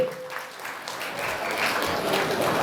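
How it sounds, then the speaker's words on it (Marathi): An audience at a college road-safety awareness event applauds a child, with sustained clapping that grows slightly fuller over a couple of seconds and faint voices mixed in. "जोरदार टाळ्या पाहिजे त्या बाळासाठी"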